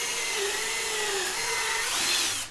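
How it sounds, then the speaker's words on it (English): A power drill bores a 1/4-inch hole in a faux wood beam rail with a steady high-pitched whine for about two seconds before spinning down, loud and close with no talking. "then drill a 1/4-inch hole on the marked spots"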